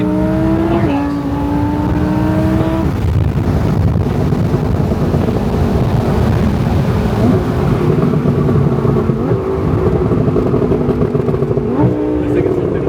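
An Audi R8 engine in performance mode howls through repeated rising revs and sharp upshifts, loud and close under heavy wind rush, with people talking over it.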